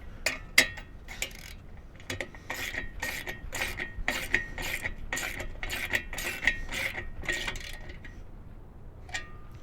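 A ratchet tool tightens the bolts on a VelociRAX MAX rack, giving rapid clicking bursts in quick repeated strokes with occasional metallic clinks, close and moderately loud, with no talk.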